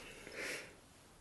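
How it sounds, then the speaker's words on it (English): One quick, close nasal sniff at a bottle of Auchentoshan 12 year old single cask Scotch whisky, a short breathy inhale in an otherwise quiet room. "I will sniff the bottle"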